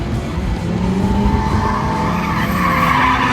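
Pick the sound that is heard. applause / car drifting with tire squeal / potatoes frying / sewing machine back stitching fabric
car drifting with tire squeal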